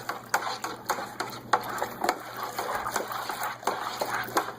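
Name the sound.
stirring additives into mead must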